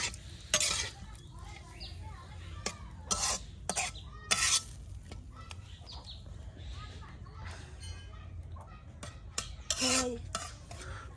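Eel fish simmering with spices in a pot, quiet bubbling under sharp intermittent clinks and scrapes of a utensil against the metal, irregular and close.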